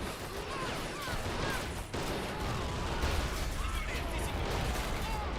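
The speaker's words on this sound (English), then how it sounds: "Yep, that mortar is still firing." Dense, continuous battlefield din in the WWI game All Quiet on the Western Front, with a mortar firing amid steady rolling gunfire and crashes, loud and unbroken, speech faintly mixed in.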